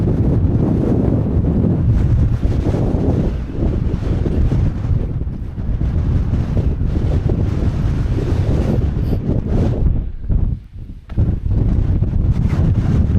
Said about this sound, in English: the wind has picked up no end on the edge